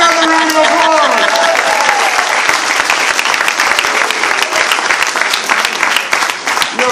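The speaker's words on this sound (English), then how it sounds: "Give Ruben Diaz another round of applause." A political rally crowd in Riverdale applauds loudly for Ruben Diaz, a thick, sustained roar of clapping close at hand that opens under a trailing voice and then fills the whole stretch by itself.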